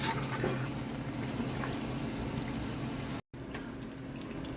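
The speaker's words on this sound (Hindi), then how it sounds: "मैं भी यहाँ पर आधा कप पानी डालूंगी और उसको पकाऊंगी।" Water poured into a pan of cooking keema with peas, a steady liquid hiss and sizzle that runs on and then breaks off briefly near the end.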